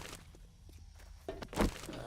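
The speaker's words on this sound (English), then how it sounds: "I can actually hear stuff walking around at the back." Zombie footsteps shuffle around somewhere behind the player in the survival game 7 Days to Die, soft irregular thuds at a distance, with a louder bump near the end.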